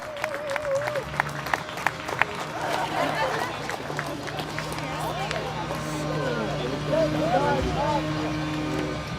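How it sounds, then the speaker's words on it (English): An audience at a student achievement celebration applauds peer mentors with sustained clapping and crowd murmur, while voices carry on over it. "another round of applause for these peer mentors"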